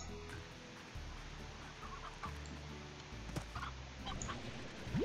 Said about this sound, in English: Oh, dude, is that a chicken?